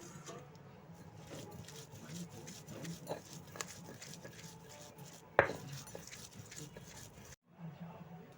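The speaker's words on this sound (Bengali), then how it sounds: "ভেজে নিয়ে পেঁয়াজ রসুনগুলো বেটে নিয়েছি।" Fried onion and garlic are crushed on a stone grinding slab with repeated rough scraping and rubbing strokes, punctuated by a sharp clack of stone partway through, fairly quiet overall.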